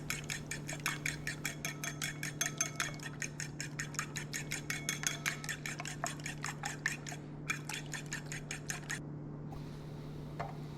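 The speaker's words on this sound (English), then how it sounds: "I mixed the eggs together" A fork or whisk beats eggs with mayonnaise and soybean paste in a bowl, a rapid, steady run of close clicking taps that thins out and stops near the end.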